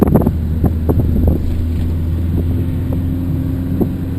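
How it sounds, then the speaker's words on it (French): A camper truck drives along with a steady, loud, low engine drone and constant wind rush, a few knocks and rattles early on, recorded from inside the cab with no talk. "c'est parti pour un voyage dans un camion itinérant"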